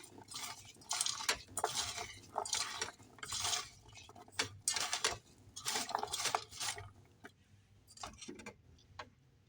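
Salt being rubbed and mixed by hand into cut mango pieces for Kerala-style mango pickle, with irregular wet scraping, rustling and clinking in short bursts, close and fairly quiet.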